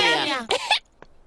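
Pedro, a cartoon pony character in the Russian dub of Peppa Pig, coughs with a contagious cough. A short vocal sound leads into two sharp, close coughs, followed by a faint third.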